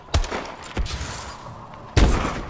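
Three sharp gunshots ring out in Call of Duty: Advanced Warfare, the first two close together and the third after a pause, each loud with a brief echoing tail.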